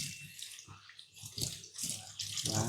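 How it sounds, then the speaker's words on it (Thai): Running water splashes over a hairpiece as it is rinsed, a close, steady rush with splashy bursts that swell and fade, and no talking. "หลังจากนั้นเราก็ล้างน้ำเลย"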